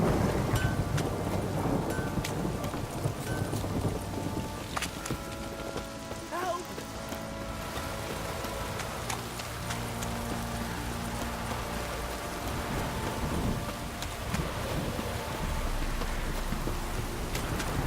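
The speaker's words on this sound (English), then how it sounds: "This downpour's a bastard" Heavy rain pours steadily throughout in The Witcher 3: Wild Hunt, with low rumbles of thunder rolling underneath and scattered game sound effects.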